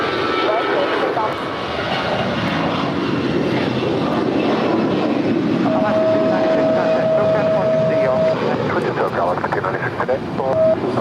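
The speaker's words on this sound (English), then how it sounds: "That is Alaska 296 departing to Seattle, Tacoma. It's an A320." Alaska Airlines Airbus A320 jet taking off from runway 25 right at LAX, a loud, steady engine roar filling the whole stretch with a brief tonal beep partway through.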